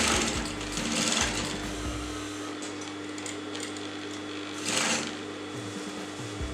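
A sewing machine stitches the top edge of a tote bag's fabric with its lining tucked inside, a steady, close mechanical hum with short bursts of faster running and brief pauses.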